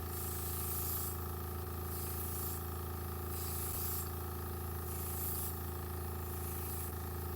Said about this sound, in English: I'm going to do more further away and constant sprays.